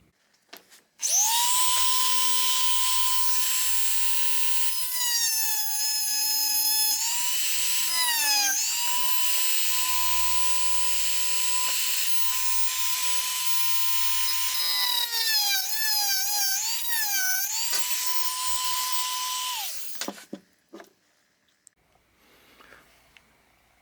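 A high-pitched power tool shaves down a plastic rib inside a Cetme L rifle magazine, whining steadily for about twenty seconds with pitch dips and grinding bursts as it bites, close and loud, then stopping.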